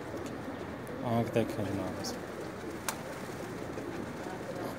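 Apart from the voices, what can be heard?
pigeons cooing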